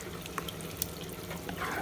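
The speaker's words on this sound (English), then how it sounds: "I'm just gonna put a little bit of water in it, and then I'm gonna mix everything together" Water trickles into a pot of basmati rice for Nigerian jollof, a soft, close pouring splash with a few small drips, fairly quiet against a faint background hum.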